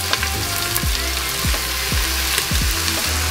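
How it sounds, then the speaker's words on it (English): Onions sauteing in a pan alongside browning sausage give a steady close sizzle and crackle, with a few soft scrapes and knocks of stirring. "While our sausage is browning, time to start sauteing our vegetables. Of course, we always start with our onions."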